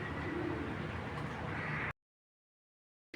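Blue checker pigeons in a loft cooing softly, with faint low murmurs over background hum; the sound cuts out abruptly partway and then briefly returns.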